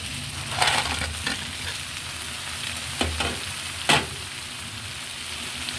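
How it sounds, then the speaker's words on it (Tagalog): Crab sizzling in a pan with butter and garlic, a steady close frying hiss with a few louder crackles and stirring clatters, no voices. "Then ilagay na natin yung ating alimasag."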